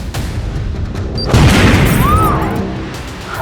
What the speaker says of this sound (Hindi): ट्रैक्टर में ब्लास्ट।